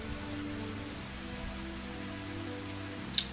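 Steady rain falls in the Zelda: Ocarina of Time video game, a soft, even patter with a low hum underneath and one brief sharp tick near the end, no voices.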